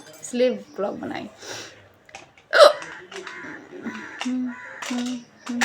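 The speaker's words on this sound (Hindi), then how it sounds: "रियल है ये हिचकी" A person hiccups once, sharp and close, between stretches of casual Hindi talk.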